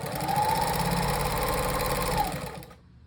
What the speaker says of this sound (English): Okay, ready to sew right here.